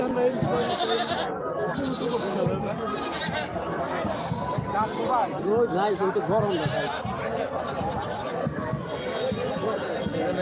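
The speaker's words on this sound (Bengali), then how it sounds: "রয়েছে ভেড়া" Sheep or goats bleating at a crowded livestock market in Lauhati, Tangail, Bangladesh, repeated wavering calls up close amid loud crowd chatter and people talking.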